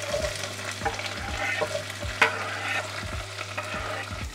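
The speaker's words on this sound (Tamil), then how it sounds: "ஒரு வெங்காயம் வெட்டி அதை சேர்த்து வதக்குறேன்." Chopped onion sautéing in a pan, with a continuous sizzle and a spatula scraping at a steady, regular rhythm over a low steady hum, close and fairly loud.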